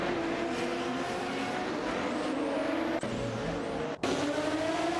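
Bugatti EB110 LM race cars in a video game race, a steady engine drone with shifting pitch and a brief dip near the end, continuous and fairly loud.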